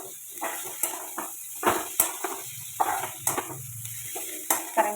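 Rice-and-vegetable mixture being stir-fried in a pan on a gas stove turned low, with a steady soft sizzle under repeated scraping and clinking strokes of a spatula against the pan, no talking.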